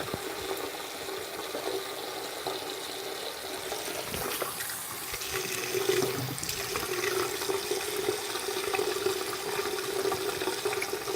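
Tap water running into a sink as a hand is rinsed under it, a steady close splashing rush that holds across the whole stretch and swells slightly midway, with no talking.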